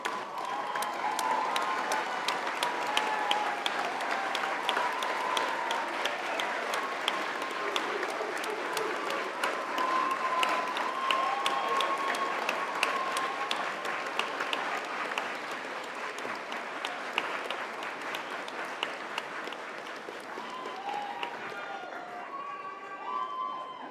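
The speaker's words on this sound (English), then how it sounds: "join me in showing your thanks with a huge round of applause." A graduation ceremony crowd at a Faculty of Science & Technology event gives sustained applause with some cheering, a dense, even wash of clapping lasting throughout with scattered sharper claps standing out.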